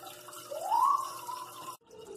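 A water filter running in a crawdad tank trickles and gurgles steadily, with a rising liquid tone in the middle before it cuts out abruptly near the end.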